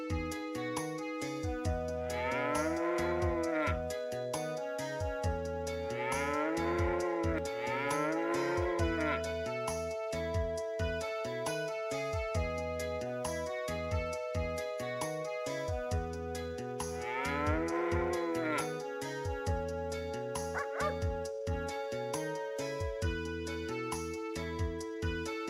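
Cartoonish cattle moos from the video game Breath of Fire III repeat over a looping chiptune-style melody, several rising-and-falling calls spread across the passage, steady and fairly loud without any talking.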